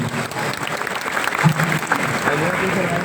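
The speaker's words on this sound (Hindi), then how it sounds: "तो एक बार खुद के लिए जोरदार ताली हो जाए" A crowd of students at IIT-BHU claps loudly and steadily, applause filling the hall for a few seconds.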